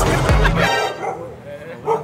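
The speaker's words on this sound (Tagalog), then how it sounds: "May aso." A dog barks a couple of times close by, with a person speaking at the same time amid street background noise near Filipino carinderias at night.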